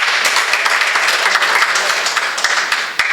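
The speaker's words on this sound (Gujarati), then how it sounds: "તો આપણે બંને બહેનોને તાળીઓથી આવકારીએ." An audience at a women's empowerment session of a district branch conference breaks into steady, dense applause, the clapping filling the room evenly for the whole stretch with no break.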